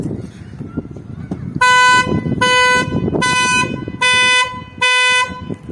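A 2011 Skoda Fabia's anti-theft alarm sounds its horn in four loud, evenly spaced blasts, close by, with people talking quietly in the background.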